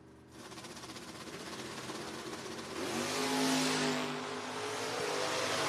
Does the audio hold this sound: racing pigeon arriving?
no